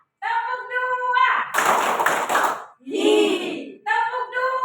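Many hands clap in a group clapping game, a short ragged burst of claps following a spoken call, then voices shouting and talking afterward.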